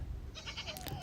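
A goat bleats once in a village, heard from a short distance over a low background rumble.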